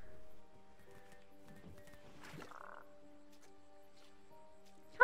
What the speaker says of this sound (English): All the frogs I tried to catch.